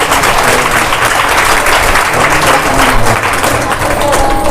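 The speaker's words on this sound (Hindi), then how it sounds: "जोरदार ताली बजाओ" A satsang audience claps loudly and steadily, a dense wash of many hands sustained throughout at close range, with a faint voice under the applause.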